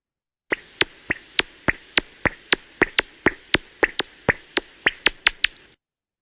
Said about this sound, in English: So that sound is from one of our bigger bats,